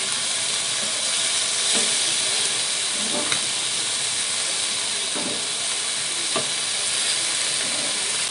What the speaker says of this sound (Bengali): এবার মাছগুলো ভাজা হচ্ছে।